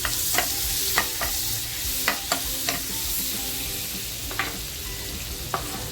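Coriander leaves frying in butter and oil for masala chicken give a steady close sizzle, broken by a few sharp clicks of a spoon stirring the pan.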